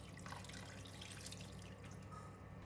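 Tap-like running water poured in a steady stream into a pan of braising pork belly, a continuous close splashing wash lasting throughout, with no talk.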